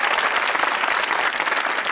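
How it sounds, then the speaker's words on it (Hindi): Studio audience at a comedy talk show applauding steadily, a dense wash of clapping from a crowd that holds at even loudness throughout. "अपने लिए तालियां बजाएं"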